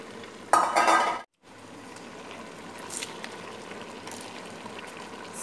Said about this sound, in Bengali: তো এখন হচ্ছে মাংসটা দিয়ে দিব পাতিলে।